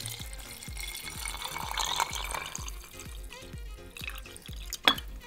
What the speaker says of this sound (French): maintenant, on va pouvoir compléter notre bocal avec notre petit rhum ambré